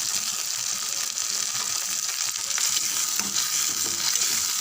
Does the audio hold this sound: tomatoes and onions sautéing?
yes